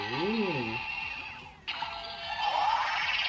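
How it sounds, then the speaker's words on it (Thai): A DX Guts Sparklence toy transformation device from Ultraman Trigger plays an electronic standby loop: a warbling tone, then a sharp click and a bright, sustained buzzing hum. "นี่คือเสียงสแตนบายก่อนแปลงร่างนะฮะ"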